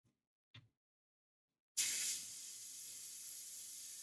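An airbrush loaded with ink and extender bursts into a sharp, close hiss after a couple of faint clicks, then keeps spraying in a steady, airy stream.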